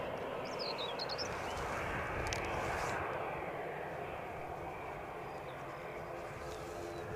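An ATR airliner on a flight to Dublin at Edinburgh Airport gives a steady, moderately distant engine roar that holds throughout. A bird chirps briefly near the start.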